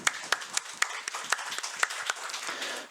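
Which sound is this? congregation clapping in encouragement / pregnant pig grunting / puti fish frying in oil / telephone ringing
congregation clapping in encouragement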